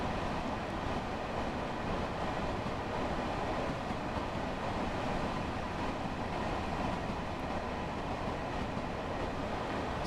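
A Long Island Rail Road train runs through a suburban line in Train Sim World 2020, giving a steady, even rolling rumble with faint rail clatter that continues unbroken throughout, with no talking.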